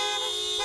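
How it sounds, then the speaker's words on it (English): A car horn sounding one sustained, loud honk from lined-up decorated cars at a drive-by parade outside a senior living community. "Horns beeping from lined-up cars decorated with inspirational messages"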